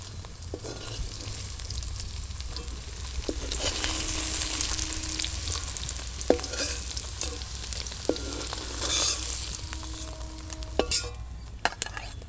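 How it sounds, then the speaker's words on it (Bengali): Vegetables lightly frying in a pan for a homemade tomato pizza, a continuous soft sizzle punctuated by occasional clinks and scrapes of a utensil against the pan. "হালকা করে একটু ভেজে নেব সব কিছু"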